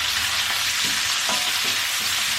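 Seafood sizzling steadily in hot oil, a dense continuous hiss with faint clatters of stirring throughout.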